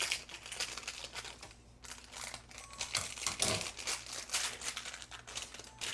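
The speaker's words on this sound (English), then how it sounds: "So we just put this in a bag. And then we cut this little tip off." Plastic piping bag being handled and crinkled while its tip is snipped off, a close, steady rustle and crackle with brief sharper snips, no talking.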